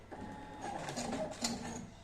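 A casino card shuffling machine takes in cards with short mechanical whirring and clicking pulses, close and fairly steady, turning over in brief bursts with no talking.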